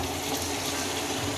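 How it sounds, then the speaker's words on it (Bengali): Water is poured into a pan of fried duck meat, making a brief, steady rush of liquid that is close and fairly faint. No one speaks. "এখন একটু পানি দিয়ে দিব"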